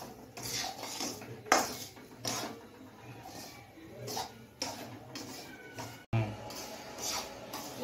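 Semolina and ghee stirred in a pan for halwa, a spoon scraping and knocking against the metal in repeated strokes, close and moderately loud, with occasional faint sounds in the background.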